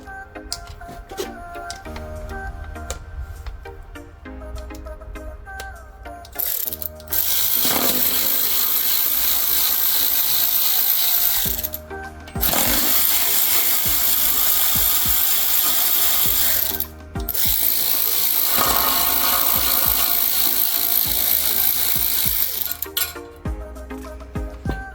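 A ratchet tightening 8mm bolts on a 2018 Ford F150, loud rapid clicking in three long bursts separated by short pauses, close and alone.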